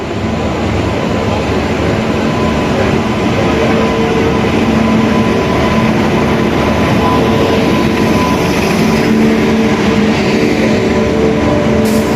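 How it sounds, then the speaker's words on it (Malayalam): Netravati Express passenger train pulling into platform 2 at a station, a steady loud rumble and rolling rail noise with low engine hum sustained throughout, no voices. "നമ്മുടെ നേത്രാവതി എക്സ്പ്രസ് വന്നുകൊണ്ടിരിക്കുകയാണ് കേട്ടോ പ്ലാറ്റ്ഫോം നമ്പർ 2-ലേക്ക്"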